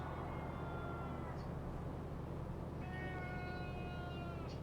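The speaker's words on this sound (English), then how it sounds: "You can probably hear a cat in the background." A cat meows to be fed somewhere in the background, two faint, separated cries over a low steady room hum.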